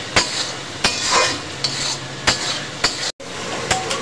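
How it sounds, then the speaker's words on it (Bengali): Spices frying in a pan before chicken is added, a steady sizzle broken by sharp repeated scrapes and knocks of a utensil stirring against the pan, close and fairly loud. "মাত্র মশলা কষাচ্ছি, মশলাটা ভালোভাবে ভাজা ভাজা হবে"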